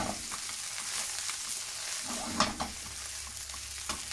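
Pork fried rice sizzles steadily in a pan while being stirred, a continuous close frying hiss with a few sharper scrapes and clicks of the utensil against the pan.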